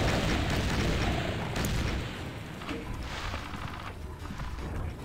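Cannon fire in the Doom mod Pirate Doom, a heavy booming blast that rolls into a long rumbling tail, loud and dense, with later crackling bursts as the echo decays.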